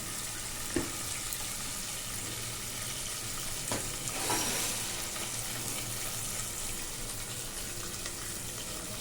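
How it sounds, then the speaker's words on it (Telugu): Asafoetida and small ginger pieces fry in oil in a pan, a steady soft sizzle throughout with a couple of faint taps, quiet and close. "ఇంగువ వేసి ఇంగువతో కూడా వేయించండి"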